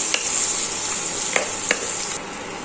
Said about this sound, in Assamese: লৰাই চৰাই আকৌ ভাজিম।